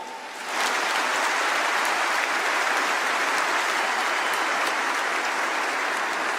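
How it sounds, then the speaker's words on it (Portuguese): A church congregation breaks into loud, dense applause for the women, swelling within the first half second and then holding steady as a continuous wash of clapping with no voices. "Aplauda essas mulheres."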